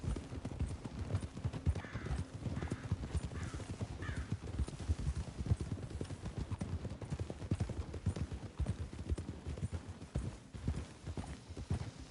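Continuous clopping of horse hooves at a steady walking rhythm, fairly close, with a few faint whinny-like calls early on.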